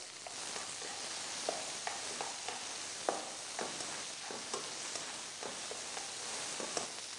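Onion, bay leaf, ginger and garlic fry for a lamb curry in a pan, giving a steady close sizzle with scattered clicks and scrapes of stirring throughout.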